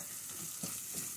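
Mutton curry masala fries in a pan with a soft, continuous sizzle, with a couple of brief stirring scrapes, close and fairly quiet.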